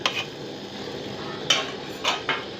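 Corn flour halwa being stirred with oil and sugar in a pan, a few soft scrapes and clinks of the spoon against the pan over a faint background hiss, with no talking.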